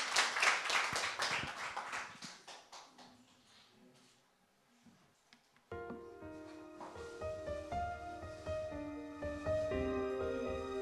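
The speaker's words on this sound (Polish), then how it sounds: "Brawa dla Natalii." Applause for young singer Natalia Siekierka at the Zaczarowany Mikrofon 2024 festival eliminations: a loud, dense burst of clapping that thins and fades over several seconds, followed after a brief lull by instrumental backing music for a song.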